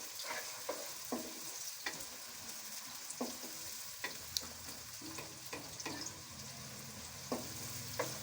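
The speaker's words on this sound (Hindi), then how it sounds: "इसको भूनते हमें 1 मिनट हो गया, प्याज थोड़ा सा फ्राई हो गया" Onions frying in a pan on a high flame, a continuous low sizzle broken by repeated sharp clicks and scrapes of stirring at uneven intervals, with no talking.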